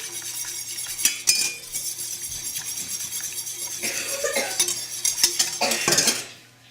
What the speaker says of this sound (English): And we'll whisk that up.